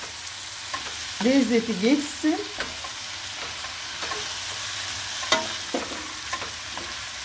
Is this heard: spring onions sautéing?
yes